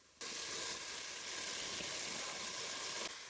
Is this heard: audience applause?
no